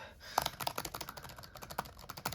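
Keys clatter on a laptop keyboard with short key travel, a daily work machine that is worn and battered, in a quick uneven run of close, crisp clicks with no talking.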